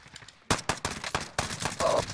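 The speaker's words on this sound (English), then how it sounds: "There's a guy shooting from over here." Bursts of gunfire in the video game Hitman: several sharp, loud shots in quick clusters, a brief quiet lead-in, then rapid repeated firing with no voices.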